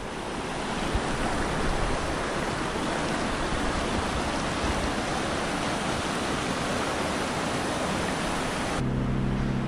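The Blue River flows beside a campsite as a dense, steady rush of water that fills the scene without a break, loud and close, with no voices.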